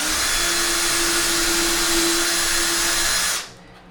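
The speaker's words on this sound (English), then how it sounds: "So, I'm going to drill right into that stud." A power drill bores into a wall stud while a towel bar is being mounted, running as a loud, steady high-pitched whine for about three seconds before cutting off abruptly.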